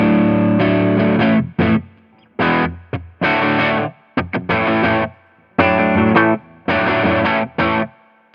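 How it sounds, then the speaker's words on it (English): Electric guitar chords and bursts played through a Strymon Sunset or Riverside pedal's fuzzy, gritty distortion with drive turned all the way up, choppy strums separated by short gaps, loud and close. "gives a little hairy distortion on it"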